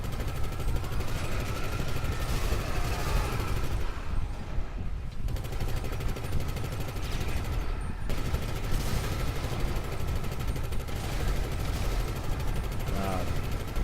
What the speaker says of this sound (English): let's do the dual minigun. The dual minigun, 360 degrees firing.